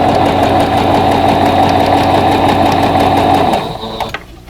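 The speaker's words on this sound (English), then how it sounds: "just follow it on up as I'm sewing right along the edge of that tape" A sewing machine runs steadily, stitching a vintage quilt block along the edge of a strip of tape, with a loud continuous mechanical hum that slows and stops near the end.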